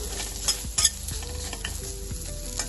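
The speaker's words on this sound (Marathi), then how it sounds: "आता आपण कांदा छान भाजून घेणार आहोत। 2 ते 3 मिनिटांसाठी कलर रंग बदलेपर्यंत आपण कांदा छान व्यवस्थित भाजून घेऊयात।" Two medium onions frying in a pan for a spicy village-style drumstick curry, a steady close sizzle with scraping stir strokes and a few louder utensil knocks, no voices.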